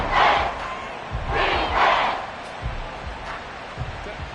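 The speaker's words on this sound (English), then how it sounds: "This crowd turning up the decibel level" Football stadium crowd at an NFL game, Chargers at home in the fourth quarter, roaring loud and sustained in surging waves that swell and ease, with commentator-like voices faintly mixed in.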